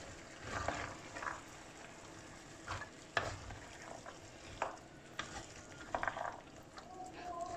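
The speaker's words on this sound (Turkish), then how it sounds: "Ve bu şekilde yaklaşık bir 5 dakika kavurmaya devam ediyorum." Shelled peas and meat sauté in a pot, a soft steady sizzle broken by repeated stirring scrapes and clinks of a spoon against the pot.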